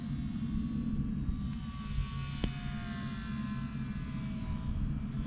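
An RC ICON A5 or P51 Mustang model airplane makes a full-throttle pass, its motor giving a steady, thin high-pitched whine that glides slowly downward as it passes, with a constant hum and a brief click midway.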